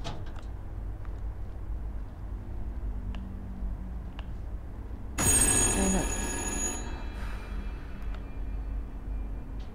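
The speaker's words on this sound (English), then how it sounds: "The phone is ringing." A telephone in a video game rings in a single loud burst of about two seconds, cutting through an otherwise quiet, low ambient hum.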